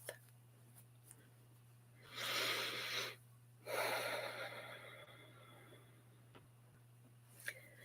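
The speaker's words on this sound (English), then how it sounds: "take a deep, nourishing breath" A slow, deep inhale followed by a long exhale after a short pause, soft breath sounds close to the mic in an otherwise quiet room with a faint steady hum.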